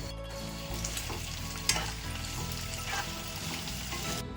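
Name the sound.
green chillies and curry leaves sizzling in hot oil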